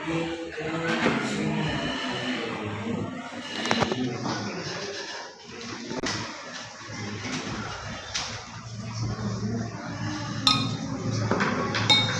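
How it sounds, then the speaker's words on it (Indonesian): Glassware clinks sharply and repeatedly while water is poured into a glass test tube during a classroom science experiment, with a voice talking over the clatter. "Tuangkan air tersebut ke dalam tabung reaksi."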